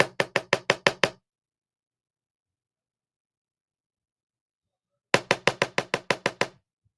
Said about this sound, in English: They're knocking at the door.